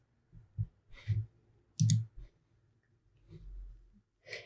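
A few sharp computer mouse clicks, spaced irregularly and fairly faint, made while opening a link in an online exam-marking page, with soft breathing between them.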